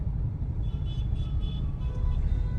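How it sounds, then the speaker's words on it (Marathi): Heavy road traffic in Karad makes a steady, loud low rumble of idling and slow-moving vehicle engines, continuous throughout, with faint higher whines on top and no talk. "भरपूर असं ट्रॅफिक लागलेलं आहे कराडमध्ये"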